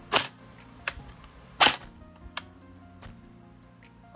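An airsoft gun fires sharp, snappy cracks close by, a couple of louder pops among fainter clicks and ticks spread over a few seconds.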